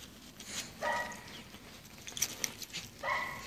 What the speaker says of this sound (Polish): No, zadowolony pies.